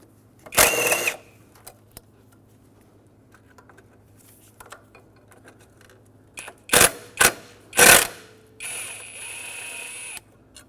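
Two 10mm bolts being removed from a cable bracket on a 2000-2005 Ford Excursion, heard as several short, sharp bursts of ratcheting and metal clatter separated by quiet gaps, close up and with no talk.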